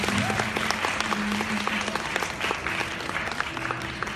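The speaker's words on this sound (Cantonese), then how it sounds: "都俾啲掌聲啦！" A live audience at a Hong Kong TV press event claps steadily as fans are invited on stage, a dense even patter of many hands, with a voice briefly heard over it.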